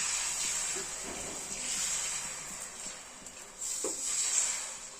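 Beaten egg poured onto a hot oiled pan for an omelette, giving a steady, close sizzling hiss that swells as the egg spreads and then keeps frying evenly, with no talk over it.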